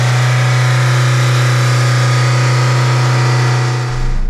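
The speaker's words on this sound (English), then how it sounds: "So that's your first load of revving" A Ford Mondeo ST TDCi 2.0/2.2 diesel engine held at high revs with a suspected injector leak causing smoke, a loud sustained droning roar with a steady pitch that drops off at the very end.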